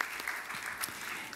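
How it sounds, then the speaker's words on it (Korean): Church congregation applauding during a Sunday service, a steady wash of many hands clapping at moderate level, slightly distant in a hall, with no clear talk over it. "이런 박수로 그렇게 해주시기 바랍니다."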